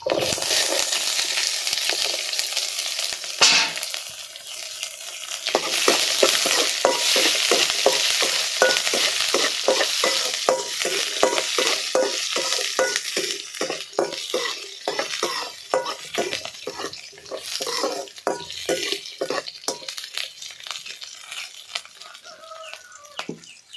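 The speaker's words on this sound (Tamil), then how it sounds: "வெங்காயம் பச்சை மிளகாவும் நல்லா வதங்கிருச்சு" Sliced onions and green chilies sauté in hot oil in a pan, with a steady sizzle and a quick, regular scrape-and-clatter of a spoon stirring them, close and moderately loud.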